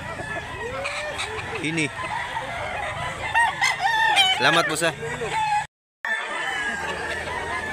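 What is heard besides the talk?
chickens and roosters crowing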